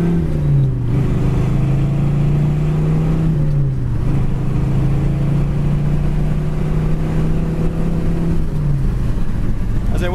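A 1970 Chevy Nova accelerates through the gears, its engine droning loud and steady with a couple of brief dips at the shifts, heard from inside the car with no talking.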